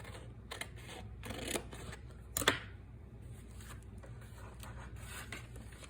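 Scissors snipping through journal paper close to the binding, a few quiet, crisp cuts and rustles scattered across a few seconds, one sharper snip standing out in the middle.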